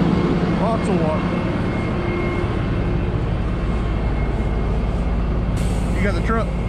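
A heavy dump truck engine drones steadily as it pulls forward through deep mud, low and continuous, with a short hiss of air near the end and faint voices in the background.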